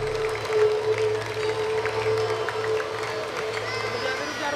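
Audience applause at an outdoor cleanliness and river-protection event in India, a steady wash of clapping and crowd noise with a sustained tone running underneath.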